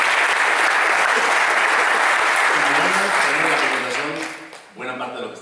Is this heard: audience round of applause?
yes